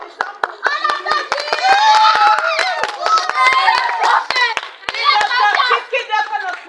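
An audience claps with crisp, separate handclaps for a few seconds while children's voices and chatter carry over it, fairly close and loud.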